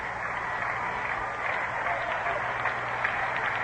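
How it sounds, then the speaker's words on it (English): A baseball crowd at Shea-era Mets game against the Cardinals, bottom of the eighth, fills a steady distant roar heard through an old radio broadcast, continuous and muffled without clear beats of a chant or talk on top. "The crowd comes alive with a chant of "Let's go Mets""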